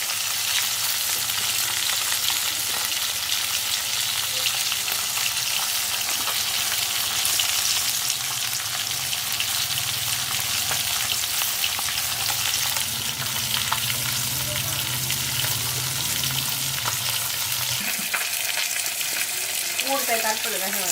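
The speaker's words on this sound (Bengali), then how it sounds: "সেই মাছটাই ভাজা হচ্ছে" Fish freshly caught from a flooded paddy field with a bamboo trap sizzles and fries steadily in a pan, a continuous close crackle with occasional stirring; a voice breaks in near the end.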